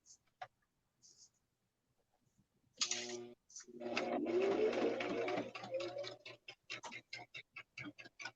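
A sewing machine stitching paper quilt pieces runs in a short, steady mechanical whir, with scattered clicks and taps of handling before and after, close and fairly quiet.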